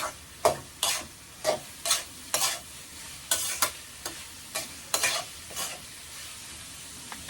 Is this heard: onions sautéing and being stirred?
yes